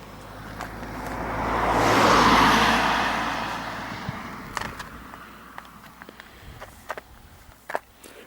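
A car on a country road near Glen Quaich approaches and passes close by, swelling to a broad whoosh, then fading away, followed by light footsteps and crunching nearby.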